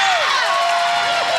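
Pickleball crowd at the National Pickleball League Championship at Pickle Lodge cheers loudly and continuously after a great shot, a brief dense burst of whoops and shouts with no commentary over it.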